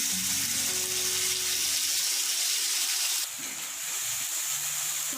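Mustard paste sizzling in hot oil with a pinch of black cumin (nigella) for a Bengali tilapia fish curry, a steady close frying hiss that shifts partway through as the paste settles in.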